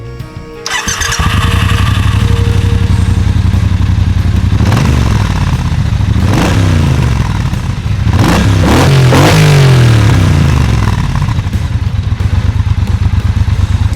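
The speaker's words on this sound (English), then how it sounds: "let me give you a little bit of the sound of the motorcycle" A Triumph Bobber motorcycle engine starts and idles loudly up close, then revs several times in rising and falling surges before settling back.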